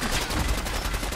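An enemy fires in the Fallout 4 video game: a quick, dense burst of rapid gunshots, rattling and continuous over a brief moment, fairly close and harsh with no clear pauses.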